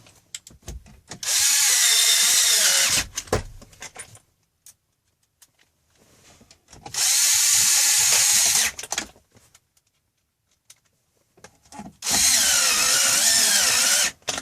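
A power drill drives Phillips head screws into the radio mounting of a 1998 Nissan Pathfinder, three separate loud whirring bursts of about two seconds each, close, with quiet handling clicks between them.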